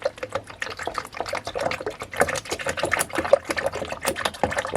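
Coolant is mixed and poured for a Yamaha WR250F dirt bike's radiators, a wet, gurgling splash with sloshing liquid and rattling of the container, fairly close and steady throughout with no talk.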